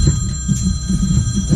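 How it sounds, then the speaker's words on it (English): A telephone bell rings in a home garage during a motorcycle wheel removal, its loud, rapid repeated trill sounding alone. "let the phone ring"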